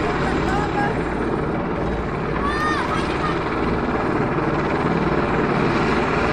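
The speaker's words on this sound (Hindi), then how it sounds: "हेलीकॉप्टर रुकता नहीं, बंद नहीं होता।" A helicopter at a pilgrimage helipad near Katra, Jammu idles with its engine left running, a loud, constant rotor and turbine roar close by with faint chirping and voices in the background.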